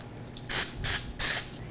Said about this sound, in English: You will want to generously spray your donut mold so that those donuts pop out easily.